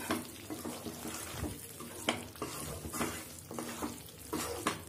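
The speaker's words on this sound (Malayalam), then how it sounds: "എല്ലാം കൂടെ നന്നായിട്ട് മിക്സ് ചെയ്യാം." Brinjal curry with jaggery being stirred in a pan over the heat, a steady sizzle with repeated scraping strokes of a spoon against the pan, close and continuous, with no one talking.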